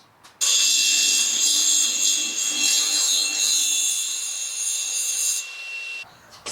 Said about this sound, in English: We're just going to cut it off so that we can fit the whole assembly